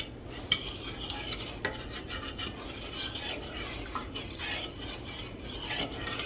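A utensil stirring a holiday beverage in a pot, soft continuous scraping and rubbing against the metal with a few light clinks, quiet and close with no talk.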